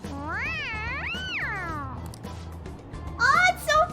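Cartoonish meows from a cat in the video game Persona 5, two long rising-and-falling calls followed by shorter chirpy mews, heard over a low steady game music bed.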